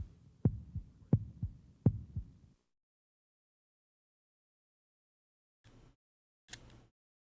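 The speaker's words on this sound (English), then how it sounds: "Dr. Bones is using a stethoscope to listen to Huckle's heartbeat." Dr. Bones listens through a stethoscope to Huckle's heartbeat in a Philips CDi video game: a run of about five soft, low, rhythmic thumps in quick succession, followed by silence and then two short, brighter blips.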